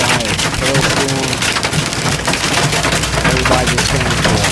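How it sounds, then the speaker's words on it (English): Hail pelts a truck cab during a Des Moines, Iowa hailstorm, a loud dense rattle of hard drumming impacts on metal and glass, continuous and close throughout. "Des Moines, Iowa. Hailstorm."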